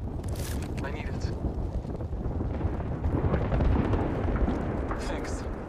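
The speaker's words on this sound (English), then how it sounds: "Throwing thermite grenade." A thermite grenade thrown in Apex Legends sets off a broad, roaring, fiery rush with hiss on top, which swells louder partway through and holds near the listener.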